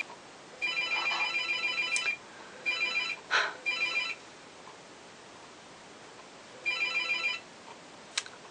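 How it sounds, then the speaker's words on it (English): A phone rings in repeated short electronic bursts, trilling a few times with brief pauses between, over quiet background hiss. "And that's the phone ringing."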